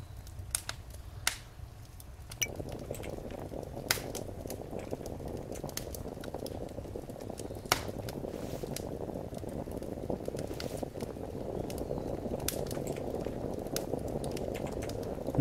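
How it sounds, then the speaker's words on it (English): A water canteen boiling over a campfire in the survival game Survive The Nights, with a steady bubbling hiss joined by scattered sharp crackles and pops that continue evenly throughout. "So the water canteen looks like it's cooking."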